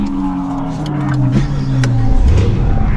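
Cadillac CT5-V Blackwing engine idling low and loud after start-up, a deep steady rumble that swells slightly with a light rev toward the end.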